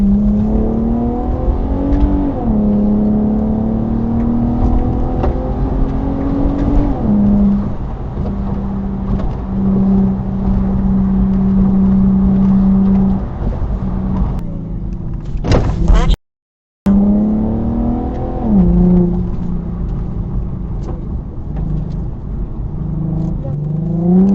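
Supercar fleeing police in a high-speed chase, its engine roaring loud and close with rising and falling revs as gears shift, broken by a brief cut before the engine climbs again.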